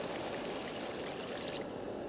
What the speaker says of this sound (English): I'm going to put in 10 fluid ounces of water